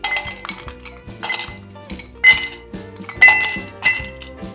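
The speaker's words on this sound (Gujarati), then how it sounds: "હવે ગ્લાસમાં આપણે આઈસ ક્યુબ નાખીશું" Ice cubes clinking and clattering into a glass for raw mango juice, a quick series of bright, hard knocks close by with no talking.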